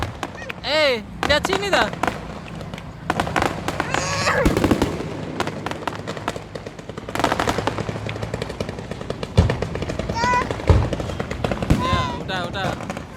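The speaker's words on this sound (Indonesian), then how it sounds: "lihat kembang api" Fireworks crackle and burst in rapid, dense volleys like gunfire, with sharp pops scattered throughout at a festive outdoor event, while people talk and call out over the noise.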